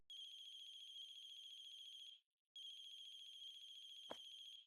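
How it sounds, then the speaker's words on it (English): A phone ringing just outside a window in a Chilla's Art horror video game, an electronic ringtone in two long sustained bursts with a short gap, clear and fairly loud, with a brief click near the end. "a phone ringing just outside our window"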